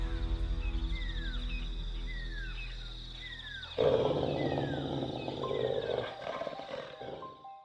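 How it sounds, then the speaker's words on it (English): A bear roars deep and forceful in a forest standoff with a pack of wolves, a loud rumbling bellow that swells midway and carries to the end, alone with no voices. "The bear roared, a deep, forest-shaking sound"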